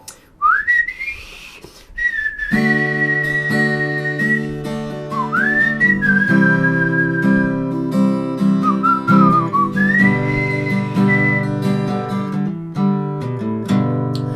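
A loud, clear whistled solo carries the melody of a Thai song in sustained, gliding phrases over steadily strummed acoustic guitar chords.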